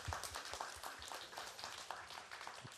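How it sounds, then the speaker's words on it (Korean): Welcoming applause from the audience at a press conference for the Korean drama W: dense, steady clapping from many hands fills the whole clip at a moderate level, with no voices. "환영의 박수 부탁드립니다"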